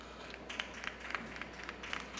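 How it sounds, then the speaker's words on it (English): Sparse audience applause after a bank shot in a pool match at the 2022 Seybert's Michigan Open, a scattering of faint, distant claps over low room hum. "round of applause there"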